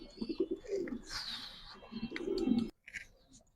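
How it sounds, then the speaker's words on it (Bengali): Spanish Gorgoria pouter pigeons cooing close by, a few deep rolling coos in quick succession with brief wing or body rustles, no speech. "এটা স্প্যানিশ গরগরিয়া পোটার বলে আর কি"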